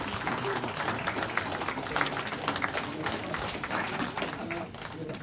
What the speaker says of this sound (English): Comrades, I think Imputka SG deserves a bigger round of applause.